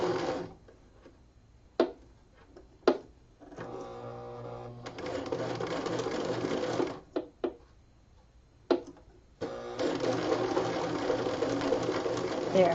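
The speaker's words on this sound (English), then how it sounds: "So very lightly, I'm going to press down on my foot pedal." A domestic sewing machine run slowly by light foot-pedal pressure, its motor whirring in short starts and then in longer steady stretches, with brief clicks between runs; no one speaks.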